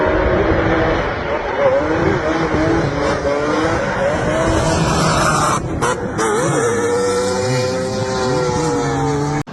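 Mazda RX7 FD drift car with a 26B four-rotor engine, roaring loud and close with a continuous high-revving drone, pitch sweeping up and down, briefly cutting out near the end.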